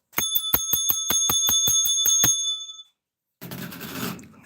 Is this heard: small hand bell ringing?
yes